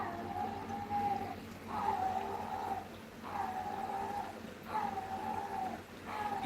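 A dog whines and cries in drawn-out, repeated wails, about five in a row with short gaps between them, heard indoors at moderate distance.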